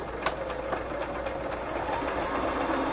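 A sewing machine runs steadily while it zigzag-stitches around a scrap paper pocket. It gives a close, even mechanical whir with a fast, regular stitch rhythm and no pauses over the three seconds.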